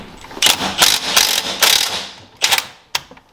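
Ratchet clicking through several quick bursts as suspension bolts are tightened on a BMW E90 M3 front end, close and fairly loud, with short pauses and two brief final clicks.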